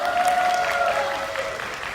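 A crowd at a 2019 disability rights rally applauds after a lively performance, a dense burst of clapping with a faint held whistle-like tone, loud at first and easing slightly over two seconds.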